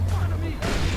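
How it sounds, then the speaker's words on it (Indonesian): Booming bursts and crackling fireworks explosions in Far Cry 3, loud and dense, with a rumbling low drone underneath. "Kembang api."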